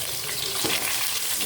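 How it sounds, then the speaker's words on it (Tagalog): A large tilapia frying in a pan of oil, a dense crackling sizzle with scattered pops, steady and close, moderately quiet, with no talking. "napiprito na tayo ng ating tilapia"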